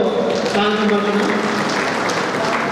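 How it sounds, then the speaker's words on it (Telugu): Applause at a community merit awards function, a steady wash of clapping heard under someone speaking loudly into a microphone, with the talk dominating over the crowd. "వారందరికీ ఒకసారి గట్టిగా చప్పట్లతో పాల్గొంటున్నాం"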